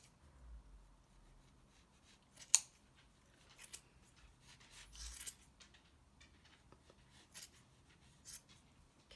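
Scissors snip through the yarn loops of a pom-pom on a trim guide, a few soft close cuts spread out with quiet rustling between them.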